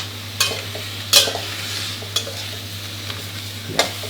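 Shrimp stir-frying over high heat in a hot pan: a low steady hiss punctuated by sharp metallic scrapes and tosses every second or so, close up.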